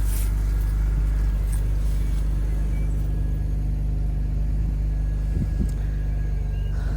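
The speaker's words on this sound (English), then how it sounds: "Wow, first time start." The engine of a 2004 BMW E46 325i touring, just started and low on petrol, idles in a steady, loud, close rumble throughout, with no talk.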